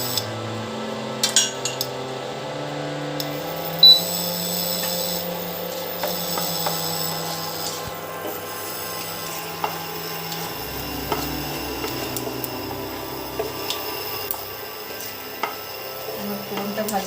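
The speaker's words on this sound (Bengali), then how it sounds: "আমার ফোড়নটা ভাজা হয়ে গেছে।" Whole spices and a dried red chilli temper in hot mustard oil for a Bengali pumpkin curry, a soft steady sizzle with scattered small clicks and pan taps throughout, no voices.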